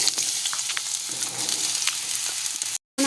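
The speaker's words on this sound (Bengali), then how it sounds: "এবার আমি পটলগুলোকে দিয়ে দেবো এর মধ্যে" Sliced pointed gourd hits hot oil in a frying pan, giving a steady, close, loud sizzle with small crackles, cut off abruptly near the end.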